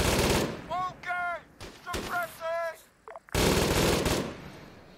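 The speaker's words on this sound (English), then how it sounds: "Suppressing fire." In the ArmA video game an AI squad lays down suppressing fire: short bursts of rapid gunshots in separate volleys, loud and close, with brief pauses between them and a burst of noisy firing near the end.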